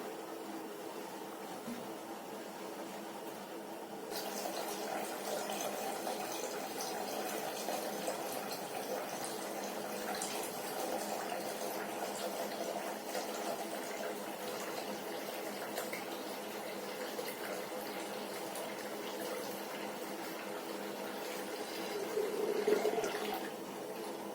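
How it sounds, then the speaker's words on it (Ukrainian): Hot water pours steadily into a container for a long stretch, a continuous rushing splash that swells briefly near the end. "І потім залити сюди свіжої гарячої води"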